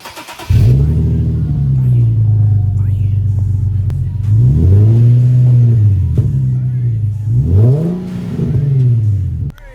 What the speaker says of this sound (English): That was a G37 started